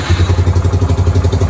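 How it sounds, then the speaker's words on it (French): Yamaha YBR 125 motorcycle after restoration, with a steady pulsing low rumble of the engine cranking and catching, a regular throbbing beat close up and fairly loud, with light mechanical clatter on top. "on entend la pompe à essence qui s'amorce et le démarreur"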